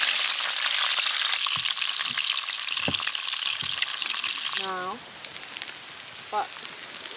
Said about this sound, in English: load it up with garlic, butter, and cook it sunny side up on the fire so all the juices stay in